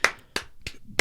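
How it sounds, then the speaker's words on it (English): Four sharp hand claps land at an even pace, close and fairly quiet, with no crowd behind them. "just a quick round of applause for the guy"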